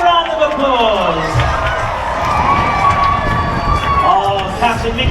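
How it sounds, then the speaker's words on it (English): A crowd cheers and shouts on a Disney cruise ship as costumed characters arrive for a 25th anniversary celebration, loud continuous cheering with children's shouts and an announcer's voice over it. "Give them a big round of applause!"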